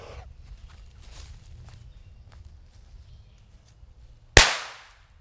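A single Wise Guys firecracker bursts with a sharp, loud crack near the end, ringing briefly outdoors after several seconds of quiet low rumble and faint rustling.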